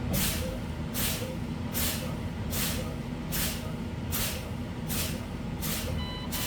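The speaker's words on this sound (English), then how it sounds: "now I'm gonna fan my brakes to make sure my alarm goes off between 55 and 60 psi" Truck air brakes are fanned over and over, making about eight evenly spaced loud hissing bursts of released air, with a faint low-pressure warning tone starting near the end.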